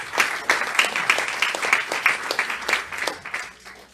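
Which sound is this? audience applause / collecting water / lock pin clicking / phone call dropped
audience applause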